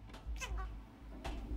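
A cat meows twice in the video game Dumpster Diving Simulator: Cat Edition, a rising whiny call then a shorter one, over a steady low background hum.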